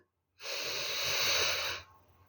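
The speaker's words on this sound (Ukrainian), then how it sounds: "Рахуючи до двох, робимо вдих." A single long, deep inhale through the nose during a counted relaxation breathing exercise, close and fairly loud, lasting over a second before fading to quiet.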